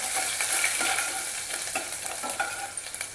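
Cumin and chopped onion fry in hot oil over a low flame, giving a close, continuous sizzle with repeated scraping taps from stirring.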